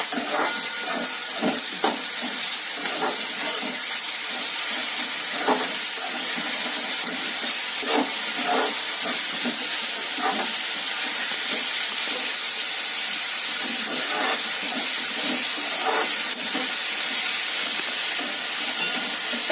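Tomatoes sizzling in a pan of fried onions, a steady bright hiss with soft crackles and occasional stirring knocks, close and continuous with no talking.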